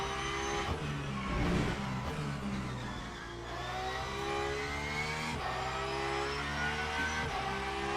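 A race car engine in the Le Mans Ultimate sim racing game, a steady, loud, harmonic-rich drone that rises and falls with gear changes and revs, with no talking.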